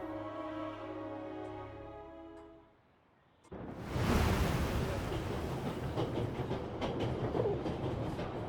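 A train in 11-11: Memories Retold rolls along the rails, its rumble swelling after a brief lull into a steady, close clickety-clack that runs on over faint background tones.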